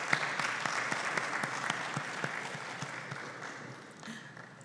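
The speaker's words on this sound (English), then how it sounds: "Let's give Stefan another round of applause" Sustained applause from an audience at a Petrotrin land distribution launch ceremony, steady dense clapping throughout that thins slightly toward the end, with no one talking over it.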